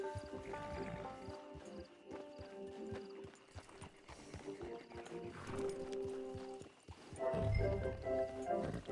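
Horse hooves clip-clopping steadily in the video game Red Dead Online, close and fairly loud, with a horse whinny or snort rising near the end over a bed of game ambience and faint voices.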